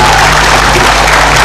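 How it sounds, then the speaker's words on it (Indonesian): An audience at an official women's empowerment event bursts into loud, dense clapping, a continuous burst of many hands lasting the full moment with no voices over it. "Kita beri tepuk tangan yang meriah."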